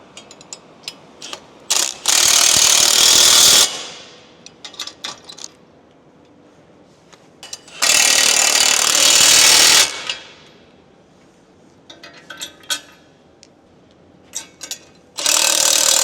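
Spanner ratcheting a wheel nut onto a car wheel: three loud bursts of rapid clicking, each about two seconds long, separated by quieter scattered clicks and handling noises.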